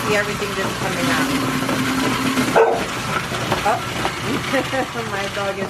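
A nervous dog barks in a home kitchen while alcapurrias are being made, with short barks mixed under a person talking and a steady mechanical hum.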